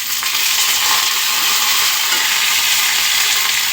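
Curry leaves hit hot oil already tempered with cumin while oggarane rice is being made, giving a loud, steady, close-up sizzle and crackle that runs without a break.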